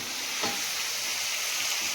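Pumpkin and prawns fry in a pan, giving a steady bright sizzle and hiss with one small pop. It is close and continuous, with no talk.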